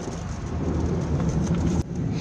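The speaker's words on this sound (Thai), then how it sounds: "อาจจะมีเสียงแซงนิดหน่อยนะคะ เพราะว่า ตอนนี้ฝนตกแล้วค่ะ ฝนตกฟ้าครึ้มเลยนะคะ" Rain falls on a car on a stormy, overcast day, heard from inside as a steady dense hiss and patter with a low rumble underneath and one brief break near the end.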